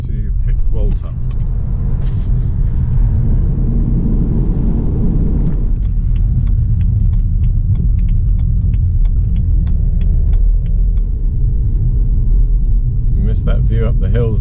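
A VW LT 4x4 van drives along a road, its steady low engine and tyre rumble continuous and close throughout, with a voice speaking over it.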